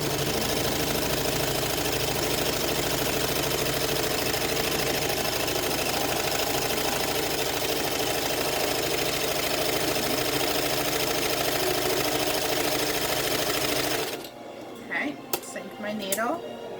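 A sewing machine runs steadily while stitching a dog coat, a loud continuous mechanical whirring that stops abruptly near the end, leaving faint handling noises.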